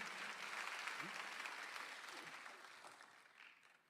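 A church congregation claps together during a Sunday afternoon worship service, a broad, even wash of applause that fades gradually, faint and slightly distant.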